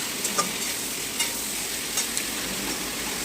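A potato and pointed gourd curry stir-fries in mustard oil, giving a continuous hissing sizzle with a few soft stirring knocks scattered throughout, close and even in level.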